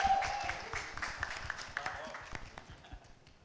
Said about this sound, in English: can we have a huge round of applause for the entire cast and crew of Mirzapur?